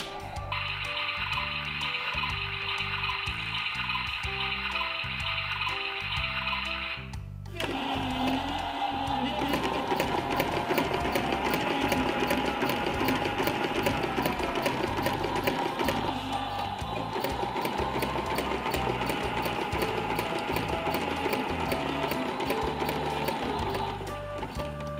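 A washing machine in a laundry video game runs its wash cycle as a continuous mechanical whirring hum. The hum shifts in tone partway through and carries on steadily for about twenty-five seconds.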